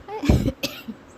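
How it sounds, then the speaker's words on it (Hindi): A woman coughs close by, one hard cough followed by two smaller throat-clearing bursts in quick succession. "तो बीच बीच में खांसी आ जाएगी"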